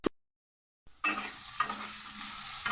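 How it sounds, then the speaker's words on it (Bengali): A brief click and near silence give way to a sudden burst of sizzling as potatoes fry with salt and turmeric in a pan, with a scrape or two of stirring, close and without talk. "আলুটা ভালো করে নুন আর হলুদ দিয়ে আগে ভেজে নেব।"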